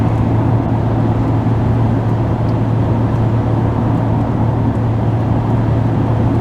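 A Mercedes CLA45 driving on a road, giving a steady low rumble of engine and tire noise that holds constant and fairly loud inside the cabin without any talk.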